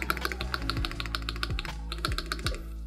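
Fast, clacky keystrokes ring out on an ROG Azoth mechanical keyboard, a dense run of crisp close taps with a few heavier thocks mixed in, played alone without any voice.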